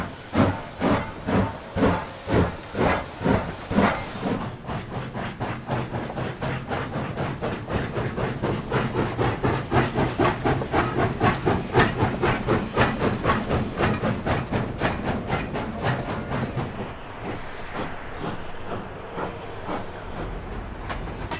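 A B&O Big Six steam locomotive, built by Baldwin and Lima, takes on water at a standpipe, giving loud, rhythmic steam chuffs that blend into a sustained hiss, then settle into a quieter steady hiss.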